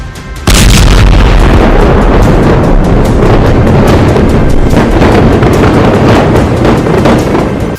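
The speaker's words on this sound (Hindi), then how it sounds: "ईरान की 3 बैलिस्टिक मिसाइलें मध्य इजराइल में सैन्य ठिकाने तेल नौफ बेस पर गिरी" Iranian ballistic missiles striking a military base in central Israel: after a brief quiet, a sudden massive boom erupts and rolls into sustained, loud, crackling rumble and wind-buffeted roar lasting several seconds, with no talk.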